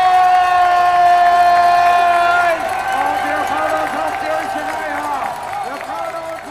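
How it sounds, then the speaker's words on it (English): Cycling fans cheer and shout for the peloton on a climb at the world championships, a loud, steady roar of voices with a sustained tone that drops away partway through, leaving busy crowd noise. "now make some noise for the peloton here at the Peloton. Cheer ahead, cheer them on."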